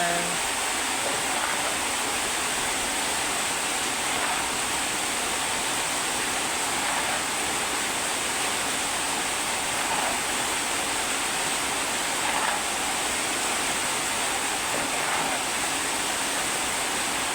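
Floodwater rushing past fills the scene with a constant broad, hissing roar, steady and loud from start to finish with no breaks.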